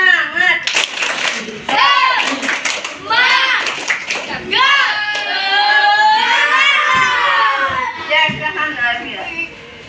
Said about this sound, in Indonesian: Sebelumnya kita tepuk semangat dulu.